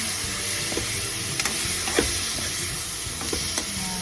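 Beef and broccoli sizzle steadily in a pan just after garlic powder goes in, with a constant frying hiss and a few soft scrapes and clinks from the stirring, and no voices.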